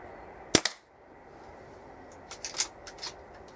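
A single Weihrauch HW97 air rifle shot, a sharp close crack followed by a quick metallic rattle, then quiet handling clicks from the spring-piston rifle.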